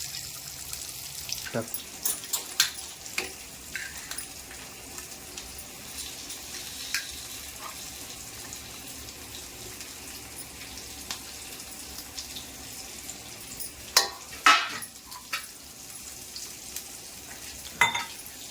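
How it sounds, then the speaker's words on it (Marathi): Fish curry bubbling in a pot as freshly caught river fish are dropped in, with a steady low simmer broken by sharp splashes and clinks at irregular intervals, louder bursts near the end. "इकडे आमटी कढीलो मस्त मस्तपैकी उकळविलं एक आता त्यात मम्मी मासे टाकून घेतात"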